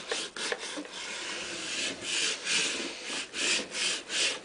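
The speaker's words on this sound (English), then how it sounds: "you're going to get your little squeegee again and really burnish these letters down" A small squeegee rubs firmly over vinyl letters on a painted surface in repeated rasping strokes, close and fairly loud, with a steady back-and-forth rhythm.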